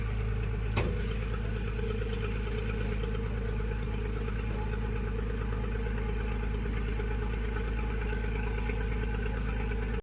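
A passenger boat's engine drones in a steady, loud, low rumble throughout at a stop at Perumbalam Island in Kerala, with one sharp knock near the start and no speech.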